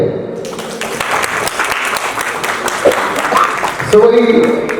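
Audience applause at a film press conference, dense clapping beneath a murmuring crowd and some voices, loud and close, with a brief tonal sound near the end.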